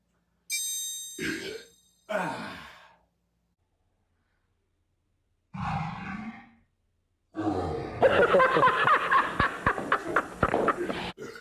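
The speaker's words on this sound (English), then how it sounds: "That's a belch that's donated to all the goodwill that is bandied about in the YouTube guitar community." A few loud belches with pauses between them, close and alone, followed by a long rough, rumbling burp that trails off.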